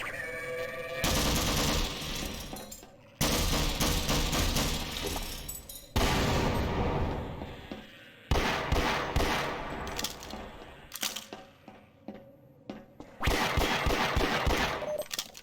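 Gunfire in the video game Half-Life: Source: long loud bursts of rapid automatic fire broken by short pauses, then choppier stuttering volleys near the end, close and dominant with no talking.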